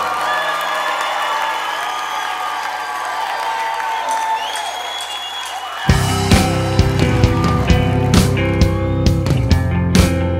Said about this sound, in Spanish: Denle más fuerte ese aplauso.